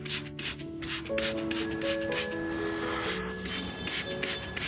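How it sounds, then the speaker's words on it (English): Several short hissing bursts from a spray bottle misting an orchid with an aloe vera and baking soda solution, spaced irregularly, over quiet background music. "time to mist the entire plant using our special aloe vera and baking soda solution"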